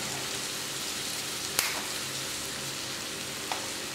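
Onions sizzling softly in a pan while being stirred for a Kerala-style egg roast, a steady low frying hiss with two brief clicks of a utensil against the pan.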